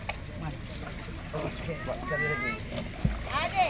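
Catfish being released into a newly opened farm pond splash into the water in small bursts, with a sharper splash near the end, while voices talk over it.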